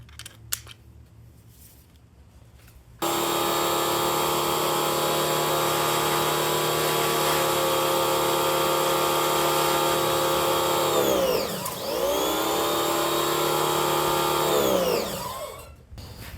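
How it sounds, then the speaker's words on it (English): A MEKOH pressure washer spray gun fitted with a wide soaker nozzle sprays in a loud, steady hiss for about twelve seconds after a quiet start. The hiss dips and surges briefly partway through and then cuts off near the end. "There's the MEKOH pressure washer gun."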